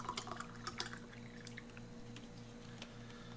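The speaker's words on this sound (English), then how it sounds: "Let's dump some water in it." Water is poured into a pouch from a 2019 Russian military ration, a faint, brief trickle and splash with a few small drips, heard close and quiet.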